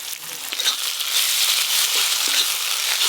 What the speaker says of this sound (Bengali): আদা রসুন পেঁয়াজ একটু ভালো করে আগে ভাজি